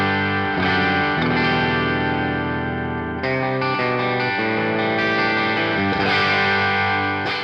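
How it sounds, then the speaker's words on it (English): Electric guitar through a Mesa Boogie Lonestar preset on a Quad Cortex, with amp-style overdrive playing sustained chords and riffs, rich and saturated with a touch of modulation and ambience. "I'm going to play into a Mesa Boogie Lonestar preset that I'm using on my Quad Cortex"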